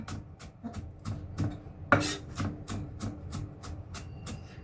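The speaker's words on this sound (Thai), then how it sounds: "หั่นให้ละเอียดนิดนึง" A knife chops rapidly and steadily on a board, a run of crisp close taps with one louder knock partway through; no voices.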